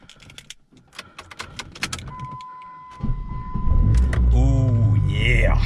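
A Dodge Neon SRT4 that has sat unused for about a month cranks and fires up, following key jingles and soft cabin clicks, its engine settling into a loud, close idle.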